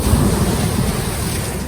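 Sea surf rolls onto a sandy beach at Costinesti, Romania, a loud continuous wash of breaking waves mixed with wind buffeting the microphone, with no voices.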